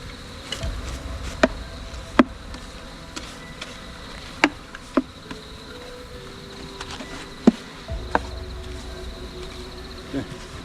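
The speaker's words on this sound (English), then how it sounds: "There are quite a few bees in this one." A steady low buzz of a large honey bee colony in a pillar hums throughout, with scattered sharp clicks and taps, and a faint murmur of voices at moments, during a bee removal.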